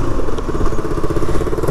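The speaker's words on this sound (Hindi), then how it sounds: "बाइक को निकालते अब सीधे" A KTM Duke 200 motorcycle, a modified BS6 model fitted with a 390 headlight, rides out with a steady, loud engine drone and faint clattering throughout, no voices heard.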